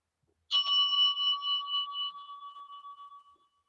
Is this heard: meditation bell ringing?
yes